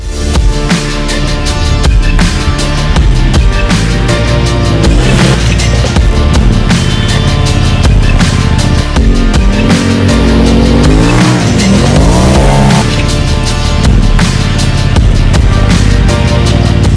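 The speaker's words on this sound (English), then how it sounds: "This RZR utilizes a very potent and powerful 925cc parallel twin-cylinder 4-stroke ProStar engine that is turbo-inducted" Turbocharged 925cc parallel-twin 2018 Polaris RZR XP Turbo Dynamix side-by-side driving hard on dirt, its loud engine note rising and falling through revs, with continuous roar close up.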